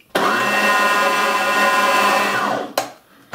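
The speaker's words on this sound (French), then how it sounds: "Je vais mettre ce saumon dans le mixeur avec l'autre saumon" Cooked, chilled salmon whirring in a kitchen blender, a loud steady motor drone lasting about two and a half seconds, then cutting off with a brief second burst near the end.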